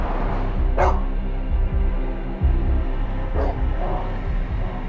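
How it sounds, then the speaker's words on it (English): Dogs bark a few times at a moderate distance, sharp yaps standing out against low rumbling background noise. "The dogs came out."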